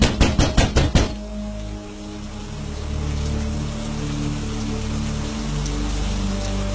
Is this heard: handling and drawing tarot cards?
no